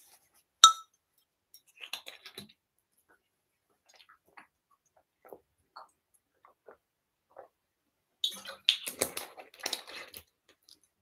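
Glass clinks softly in a quiet room as someone drinks water from a glass bottle, a sharp tap early on followed by scattered faint knocks and a denser cluster of clinks near the end.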